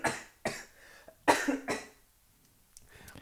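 A man coughs several times in sharp, separate bursts, a pair of hacks followed by a short cluster of rougher coughs, close and clear against a quiet room, with a faint throat noise near the end.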